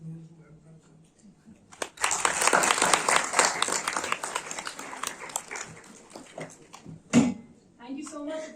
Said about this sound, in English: A big round of applause to Manish Sir